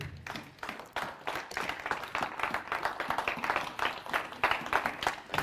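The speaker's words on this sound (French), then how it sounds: "Ah, acclame." A church congregation applauds during a sermon, dense clapping sustained throughout at moderate distance with voices mixed in.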